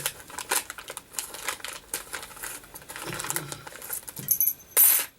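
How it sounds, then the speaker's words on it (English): Small plastic and metal parts for a Clodzilla RC car build clatter into a parts bin, a run of quick close taps and rattles with a louder spill near the end. "I'm gonna put them in my little parts bin I have here"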